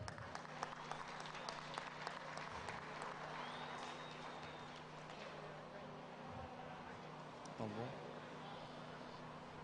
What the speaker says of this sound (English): Let's have a round of applause for Shai LeClaire